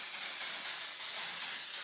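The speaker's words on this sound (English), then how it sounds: "Okay, I got my setting spray because, girl, you see this beat?" Makeup setting spray released in a continuous fine misting hiss, close and steady for under two seconds with no talking.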